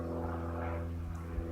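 Propeller airplane droning overhead, likely a Cessna, a steady low engine hum that fills the whole stretch without fading, with no voices.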